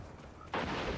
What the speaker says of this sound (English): heavy machine gun. Look at that.